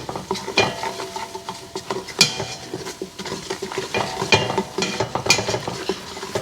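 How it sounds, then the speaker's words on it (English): A mac and cheese mixture stirred in a pan, with continuous scraping and clinking of a utensil against the pan over a soft sizzle, busy and close. "Let's stir that up a little bit."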